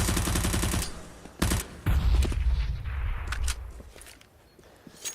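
Grenade blasts and gunfire in a professional Counter-Strike match, several sharp bursts and a deep rumbling detonation, fairly loud with dull low booms trailing off.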